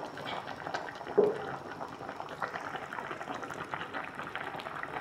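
Sinigang soup with grouper head boiling in a covered pot, a steady close bubbling simmer that continues throughout at moderate volume, with no talk.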